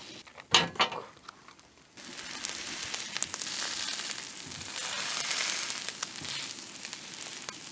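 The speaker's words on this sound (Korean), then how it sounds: "자, 이제 밥을 볶아 먹을 시간." Rice fries in sesame oil on a camp stove during car camping with a Jeep Wrangler, a soft, quiet crackling sizzle that starts after a few knocks and rattles of cookware and then continues steadily.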